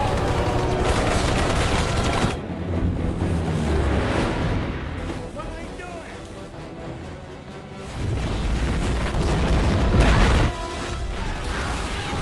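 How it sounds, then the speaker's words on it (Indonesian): Dense gunfire and blasts from The Expendables action film, loud bursts at the start and again near the end with a quieter stretch between, mixed under a narrator's voice. "Mereka pun kalang kabut menerima tembakan besar dari Chris."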